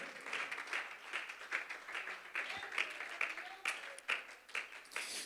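Crowd applause in a church during a Christian sermon, a steady wash of many hands clapping at moderate level with some voices mixed in.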